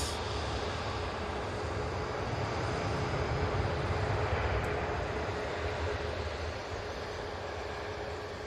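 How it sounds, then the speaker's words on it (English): Gulf Air airliner touching down at Manchester Airport, a broad steady roar of engines and rushing air that holds throughout at a distance and fades slightly near the end, no talking. "Gulf Air now touching down"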